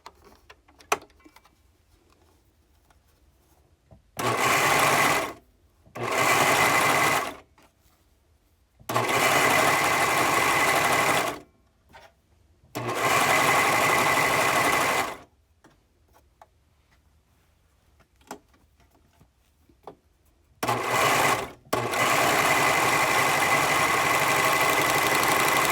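A sewing machine stitches fabric for an Ahsoka costume belt in loud bursts of a second or more, split by short pauses, then one long steady run at the end. No one talks.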